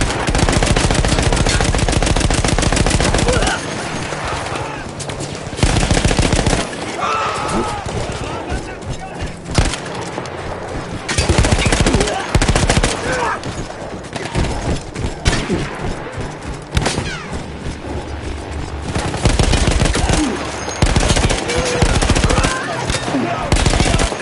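Mounted machine gun fired in the World War I shooter Battlefield 1, loud rapid bursts with booms and explosions mixed in, sustained over the whole stretch with a narrating voice at times.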